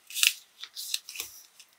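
Scissors snip through craft material for a Cricut project in a few quick, close cuts, soft and crisp in a quiet room with no talk.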